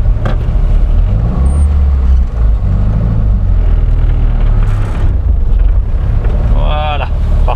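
A Morris Minor 1000 Traveller engine revs up while the car pulls forward, a loud steady low drone with wind rumble and a rising whine near the end, under a voice giving driving instructions.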